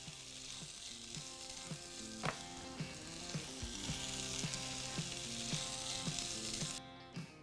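Vegetables sautéing in oil with garlic and chili crackle and sizzle softly and steadily, with occasional clinks of stirring, fairly faint against a background of gentle music.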